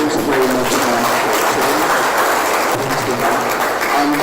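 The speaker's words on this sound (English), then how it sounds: "Please another round of applause for Mapamushi." Steady, loud audience applause at an induction ceremony in a resource centre hall, dense clapping from a crowd continuing evenly throughout with faint voices underneath.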